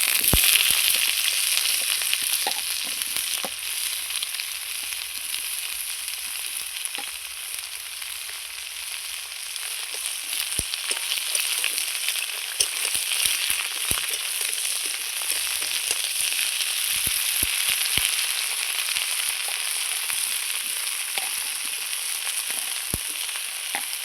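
Taro pieces sizzle and fry in hot oil with garlic and chili, a steady crackling hiss that carries on loud and close for the whole stretch, with occasional sharper pops and no talking.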